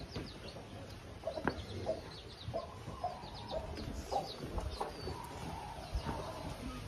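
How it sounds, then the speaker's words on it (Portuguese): On a Brazilian farm property, a hen clucks softly and repeatedly among her chicks, with thin peeping calls scattered through a low outdoor background. "E aqui uma galinha com seus pintinhos."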